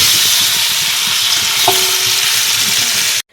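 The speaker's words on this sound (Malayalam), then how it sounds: "നമുക്ക് ഈ ശർക്കരയൊക്കെ ഒന്ന് ഉരുക്കാൻ വെക്കാം" Jaggery melting in ghee in a heavy uruli pan, a steady close sizzle and bubbling hiss running throughout, with a faint scrape of stirring partway through before it cuts off.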